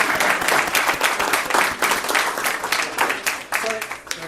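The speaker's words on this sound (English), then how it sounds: "Can we clap?" Audience at a school board meeting applauding for two students, many hands clapping in a lively, uneven patter, fairly loud, with voices speaking over it near the end.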